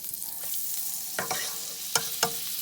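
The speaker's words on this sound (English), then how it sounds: "Let the butter melt." Butter melting in a skillet gives a soft, steady sizzle, with a few faint clinks and scrapes from stirring now and then, heard up close without any talking.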